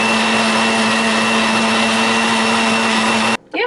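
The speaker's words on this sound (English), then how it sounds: "I'm gonna start this on a low setting and just let that blend all the cashews up" A blender on a low setting purées cashews and water into non-dairy milk, a loud steady motor whine with a constant tonal hum that runs unbroken, then cuts off abruptly near the end.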